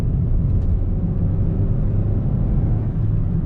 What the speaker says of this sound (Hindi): देखिए अभी हमारा 5th गियर में चल रहा है गाड़ी